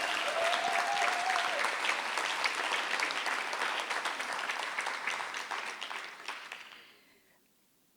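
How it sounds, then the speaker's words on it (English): A big round of audience applause at a poetry festival for the South African poet laureate Mongane Wale Serote, dense clapping that holds steady, then thins and fades out over the last seconds. "A big round of applause."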